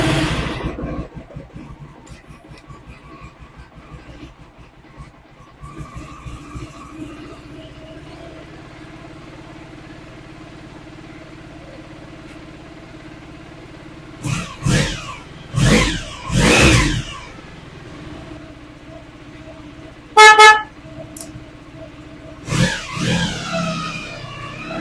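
A Honda ST1100 Pan European motorcycle with a charging fault, a low idle murmur, then several loud throttle blips and revs in short bursts, close by, no talking.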